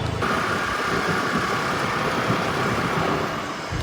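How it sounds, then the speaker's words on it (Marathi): Formula racing cars on a circuit produce a loud, continuous engine roar that holds steady throughout, recorded from trackside with no talk. "अशा प्रकारे फॉर्म्युला रेसिंगला सुरुवात झालेली आहे."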